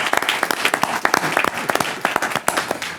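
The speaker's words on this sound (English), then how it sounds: "let's give Richard a nice round of applause" Audience applause for Richard at a formal meeting, a dense burst of many hands clapping that carries on steadily for the whole stretch, loud and close, with no voices rising above it.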